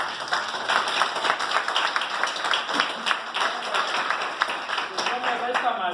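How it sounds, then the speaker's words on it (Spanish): A class applauds its teacher on the last day of term with steady, crowded clapping from a group of people, and faint voices mix in underneath. "también el aplauso es para el maestro"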